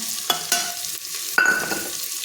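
Green chillies dropped into hot oil with cumin in a pan, two or three sharp hits and a close, bright sizzle that surges as they land and then settles.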